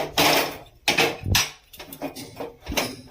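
Thick cooked lentil dhoka batter for a green-mango dhoka dalna being poured from a pan onto a mustard-oiled plate, with repeated close scraping and clinking of metal utensils against the dish in uneven bursts.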